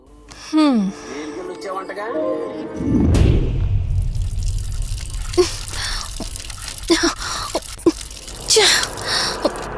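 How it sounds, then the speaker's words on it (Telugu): A broken water tap under repair that will not shut off lets scattered, sharp drips fall close by, mixed with people talking and a gasp. "నువ్వెంత కట్టినా ట్యాప్ ఆగదమ్మా అది రిపేర్లో ఉంది"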